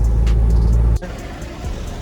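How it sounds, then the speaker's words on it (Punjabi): A 2022 Toyota Innova Crysta BS6 accelerating at speed, a loud, close, deep engine roar that cuts abruptly to a quieter road rumble. "ਐ ਸ਼ਰਾਟਾ ਪੈਂਦਾ ਗੱਡੀ ਦਾ ਪੂਰਾ"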